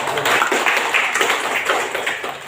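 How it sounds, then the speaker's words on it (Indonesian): Brief round of clapping from students at the close of a human resource management teaching session, a dense patter of hands at moderate loudness tapering off toward the end. "tepuk tangan untuk"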